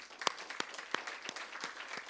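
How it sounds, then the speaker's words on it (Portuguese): A church congregation gives a short burst of applause, fairly faint and distant, with a few sharper claps standing out. "uma salva de palmas para Jesus"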